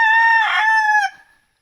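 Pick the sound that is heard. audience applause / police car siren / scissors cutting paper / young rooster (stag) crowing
young rooster (stag) crowing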